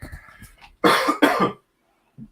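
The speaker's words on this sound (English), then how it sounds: "Sorry, a bit of a coughing fit." Two harsh, loud coughs in quick succession, following some quiet muffled sounds, then a brief faint noise after a pause.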